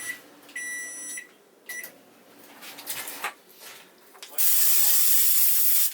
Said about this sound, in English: microwave until melted